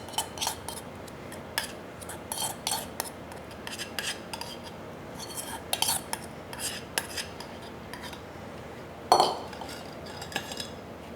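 Lumpy white glaze scraped and pushed through a small metal sieve, giving intermittent faint scraping and clinking taps close by, with a brief sharper scrape near the end and no talking.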